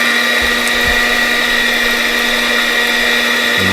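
An electric mixer whirs steadily as it beats sweet potato pie filling, a loud continuous motor drone with a high whine that runs the whole time and dips in pitch near the end.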